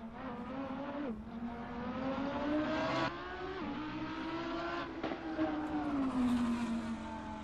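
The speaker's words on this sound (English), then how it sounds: "it's a short wheelbase car with a V10 in the middle" A mid-engine V10 short-wheelbase race car in Assetto Corsa revs hard and shifts up repeatedly, its steady engine tone climbing and dropping with each gear change at moderate volume.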